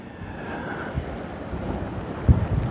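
Wind buffeting a boat out at sea off the Camargue coast, with steady broadband rushing and microphone wind noise, choppy waves slapping the hull, and a louder thump near the end.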